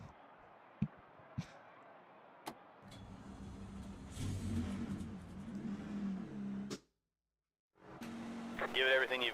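Race car engines drone on track in NASCAR 25, a steady mid-level roar building and swelling for several seconds before cutting out briefly, with a voice talking over parts of it.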